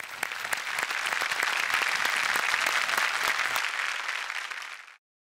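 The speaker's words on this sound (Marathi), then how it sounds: "जोरदार टाळ्या." A studio audience at a Marathi comedy show bursts into loud, sustained applause, a thick wash of many clapping hands that holds steady for several seconds and then cuts off abruptly.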